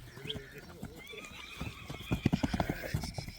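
A young colt offered for sale whinnies in a short high call, then hooves clop on the ground in a quick uneven series, with someone talking over it.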